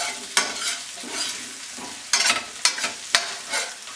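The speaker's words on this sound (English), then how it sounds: "We're going to stir the masala so that they get infused into the potatoes" Masala and potatoes are stirred in a frying pan, a quiet sizzle punctuated by sharp scraping and tapping strokes of the spoon at irregular intervals.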